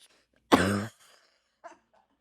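A single loud, throaty cough bursts out during a casual drinking-show chat, followed by a few faint breaths and small mouth sounds in the quiet.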